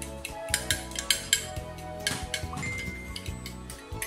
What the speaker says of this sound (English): Add it to my custard and beat it once again.